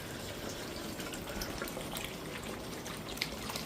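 Tap water running steadily in a home where the same unfiltered supply serves bathroom, kitchen and drinking, a continuous close splashing trickle with no talk.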